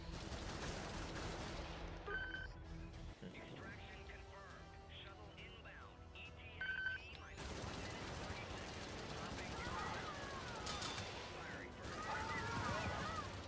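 Gunfire from the game Helldivers, with dense bursts of automatic fire and explosive cracks running loud and continuous under ongoing battle noise.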